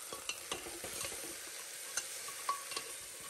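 Goat trotters stirred in a pan with garlic-ginger paste, salt, cumin and coriander powder, a steady sizzle under soft scraping strokes of a spoon at a moderate distance, with no talking.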